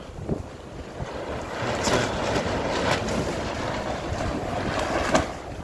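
Strong night wind in Varazze harbour, Italy, a steady rushing gust noise with buffeting on the microphone and occasional knocks and clanks of moored boats, continuous and fairly loud.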